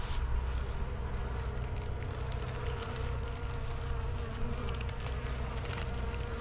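A dense, steady buzz of a honeybee swarm, close and continuous, with soft crackles and patters mixed in and no voices.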